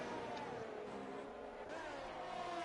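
F1 race cars racing in a sim racing league on the Brazilian Grand Prix circuit: a steady, distant engine drone with faint shifting whine and no single car passing by, quiet and continuous.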